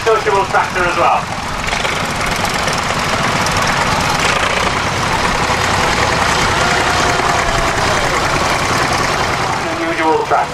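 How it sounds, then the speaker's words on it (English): A vintage Czechoslovakian tractor engine runs at a steady idle at an outdoor steam and vintage rally, a loud, continuous low rumble with knocking vibration and broadband noise, close by, with voices faintly at the start and end. "going down the even more unusual route is the Czechoslovakian tractor, this one"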